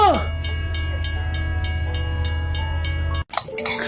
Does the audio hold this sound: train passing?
yes